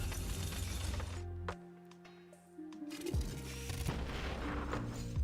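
A fragmentation grenade attack in the video game Boss Strike 2 bursts with a loud, crunching explosion and shattering debris, dropping into a brief near-silence before sustained blasts and tonal game effects return.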